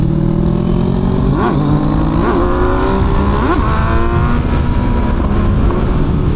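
A Kawasaki Z900 SE motorcycle held in third gear, its engine droning steadily and loud with several rising revs and gear changes, plus rushing wind noise from riding at speed.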